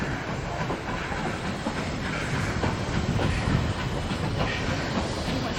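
Durango–Silverton steam train rolling past outdoors in the Colorado high country, a steady loud rumble with wheel clatter and hiss that holds throughout without any talk.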